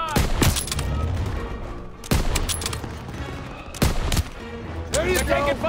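Gunfire in the World War II shooter Call of Duty WW2 crackles in loud repeated bursts and single sharp shots, close and punchy, with soldiers shouting over the battle.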